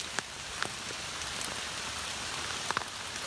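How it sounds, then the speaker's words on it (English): Steady rain patters on a primitive island survival shelter, with a few louder drips striking close by over a continuous wash of falling drops; no one speaks. "see if it stops raining anytime soon"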